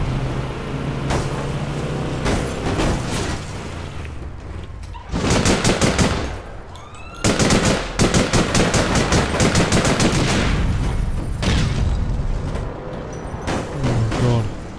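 Loud gunfire in APB: Reloaded, with rapid machine gun bursts and single shots rattling in clusters and brief lulls, then steady automatic fire near the end.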